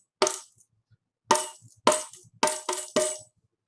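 A tambourine is played in a short syncopated rhythm pattern: five crisp jingling strikes with uneven spacing, close and clear against silence.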